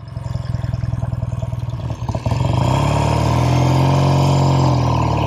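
A 1969 Triumph Daytona 500 motorcycle engine pulses in a rapid, even throb while riding, then rises into a loud, sustained drone as the bike accelerates, close and dominant throughout.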